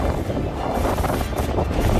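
Stormy wind of Cyclone Tauktae roaring with heavy rain in Nadiad, Gujarat, where storms uprooted electric poles and trees; a dense, steady low rumble of gusting wind and rain lasting throughout.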